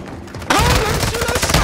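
Rapid automatic gunfire bursts out loud and close in the video game DMZ, erupting suddenly after a brief quieter moment and continuing as a dense fusillade.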